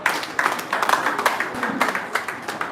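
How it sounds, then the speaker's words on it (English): An audience at a live accountancy society event applauds a guest, a ragged burst of many hands clapping with uneven, sharp claps throughout, moderately loud and fairly close. "A round of applause for her."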